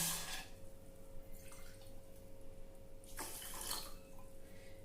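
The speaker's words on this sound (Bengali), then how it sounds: "এই 2 বাটি জল দিয়ে দিচ্ছি।" Faint bursts of water poured into a pot for gulab jamun sugar syrup, two or three short splashy gushes separated by quiet kitchen background.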